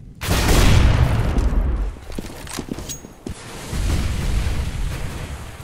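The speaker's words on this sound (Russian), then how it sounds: "Разменялись дружескими выстрелами на улице." Rapid gunfire exchange on the Nuke map in a Counter-Strike match, bursts of shots and booming blasts loud at first, then a sparser spell before more firing resumes.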